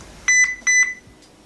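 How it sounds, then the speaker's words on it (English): A HeimVision HMA2 compact indoor security camera gives two short, clear electronic beeps during Wi-Fi setup, each a doubled tone, with a faint third blip after them and no talk. "it's making some beeping noises"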